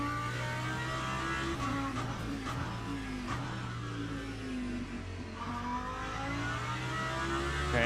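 Race car engine in the Le Mans Ultimate racing game, a steady droning whine with shifting pitch that rises and falls as the car accelerates, continuous and fairly loud throughout.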